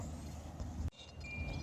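Low, steady wind buffeting rumbles across the clip outdoors at an old farmhouse site, dropping out briefly midway before resuming, with no voices present.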